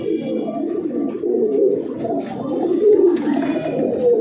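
A beauty pigeon coos steadily and close by, a continuous low murmuring call with soft rhythmic pulses, loud and without speech.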